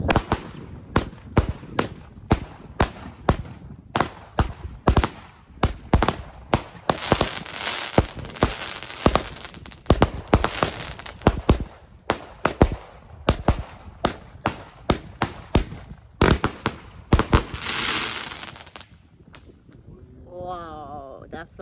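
A New Year's Eve fireworks battery fires a long, rapid volley of sharp cracks and bangs for most of the span, then a whistling, crackling tail; people talk now and then over it.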